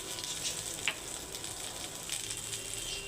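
Whole cardamom, cinnamon and cloves sizzle in hot oil in a kadai wok, a steady, moderately soft crackling hiss with a few brief pops.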